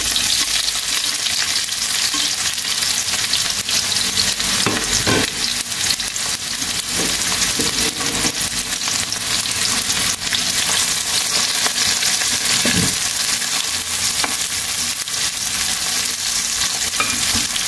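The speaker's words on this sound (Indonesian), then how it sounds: "Nah, ini bawang bombaynya yang sudah aku iris-iris ya, kita tumis dulu." Sliced onions sautéing in a pan for a stir-fried vegetable dish, a loud, steady close-up sizzle with occasional scraping stirs, no talk.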